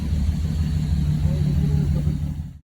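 Car engine idling unevenly in a Mazda RX-7 FC3S or BMW E30 that struggles to hold idle, a steady low rumble with slight wavering pulses, close and loud, with faint voices underneath.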